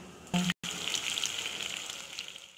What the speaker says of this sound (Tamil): மீதி இருக்க சிக்கனையும் நம்ம இப்போ ஃப்ரை பண்ணி எடுத்துடலாம்